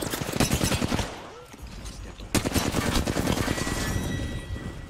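Guns fire in Apex Legends: rapid, dense bursts of automatic fire that rattle almost continuously, with a brief lull before a louder burst resumes, and people talk over the shooting.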